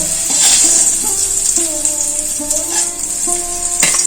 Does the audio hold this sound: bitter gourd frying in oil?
yes